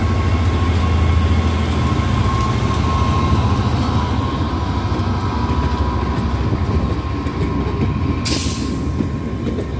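A Class 67 diesel locomotive, number 67006, hauls a railtour past at close range. Its engine drones loudly and the wheels rumble continuously, with a brief hiss near the end and no talking.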